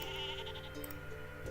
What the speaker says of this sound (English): they've reached the place where the sheep are.